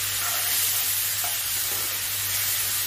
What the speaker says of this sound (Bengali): এবার আমি মশলাটাকে সুন্দর করে কষিয়ে নিচ্ছি